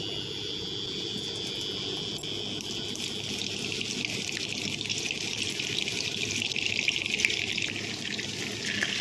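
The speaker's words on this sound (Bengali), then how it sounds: "তেলটা ভালো মতো গরম করে নিয়ে পটলগুলো ভেজে নিচ্ছি" Pointed gourds fry in hot mustard oil, a soft, steady sizzle and crackle that grows slightly louder over time, heard alone without talk.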